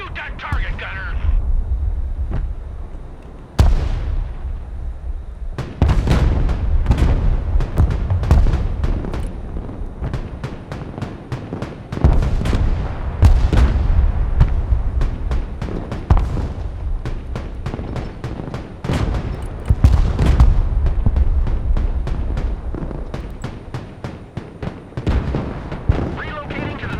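Heavy artillery fire in the war game Broken Arrow: repeated loud booms and blasts roll one after another over a sustained rumble, with voices speaking at times.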